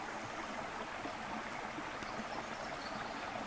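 A woodland stream (ruisseau) above Laval-Dieu near Monthermé flows steadily with a soft, even rush of water, faint and continuous, with no voices present.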